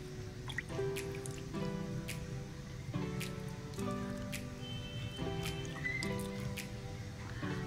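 Water drips and trickles onto moist soil sown with lettuce seeds in a home garden, a steady patter of small wet drops close by, with a soft tonal background and no talking.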